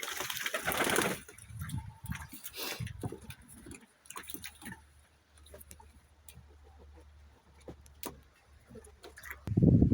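Pet pigeons bathe outdoors on a sunny day, with soft cooing and bird calls, wing flutters and water splashes, some loud up close, over faint background noise and without talk.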